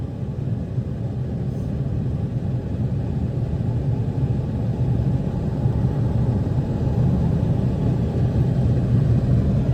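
A car turns around in a U-turn on a narrow road, giving a steady low engine rumble that holds at a moderate level for the whole stretch and grows slightly louder toward the end, with no talk over it.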